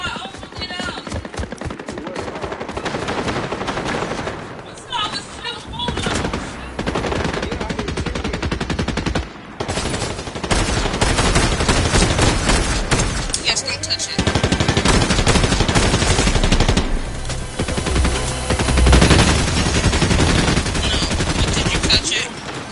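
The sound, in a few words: gunfire in Fortnite video game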